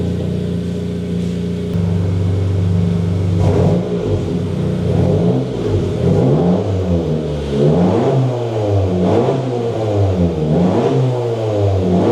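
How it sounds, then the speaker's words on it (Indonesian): A car engine on a dyno revs hard and repeatedly, rising and falling in pitch through a loud, raspy HKS racing muffler, with no talking. "Kita dengar ya suaranya dengan pakai muffler HKS yang racing ini."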